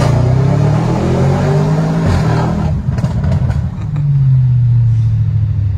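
Audi RS6 C8 Stage 2 with Milltek exhaust accelerating, a loud close engine roar climbing in pitch, breaking into a cluster of sharp crackles and pops before the drone rises again.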